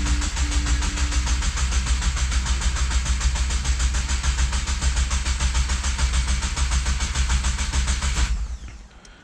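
A 2022-or-later Subaru WRX engine cranks steadily with the clutch held in and the gas pedal down to prime oil through a new Mishimoto oil cooler, a loud, even whirring churn for about eight seconds that stops abruptly without firing.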